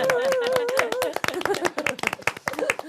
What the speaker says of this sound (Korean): 우리끼리 한번 서로 격려의 박수 한번 부탁해 볼까요